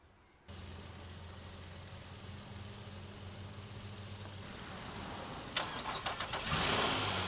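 A Nissan Pathfinder engine cranks and catches during a jump start, then settles into a steady, moderately loud idle; a louder burst of engine noise and clatter rises near the end.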